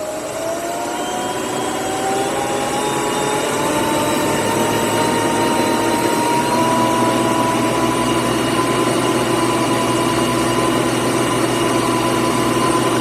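A milling machine spins a heavy flycutter at 1400 RPM, a steady loud whirring hum with a constant high whine running throughout, no talk.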